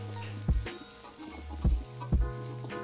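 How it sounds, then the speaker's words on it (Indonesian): Ground spice paste and crushed ginger stir-frying in a pan, a steady sizzle broken by a few sharp clanks and scrapes of the spatula stirring, close and alone with no talk. "langsung tumis bumbu halus dan juga jahe yang sudah digeprek"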